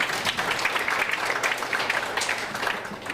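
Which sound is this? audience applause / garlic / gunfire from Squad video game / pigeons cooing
audience applause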